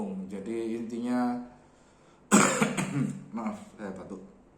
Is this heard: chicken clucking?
no